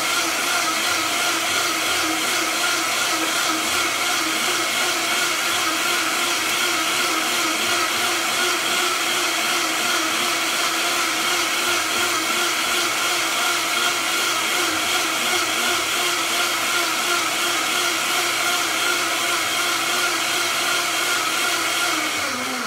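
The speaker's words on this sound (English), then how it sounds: "And then I'm gonna put it on the blender." A home high-powered blender of the Vitamix type runs steadily at full speed, a loud continuous whirring roar that holds constant throughout with no talking.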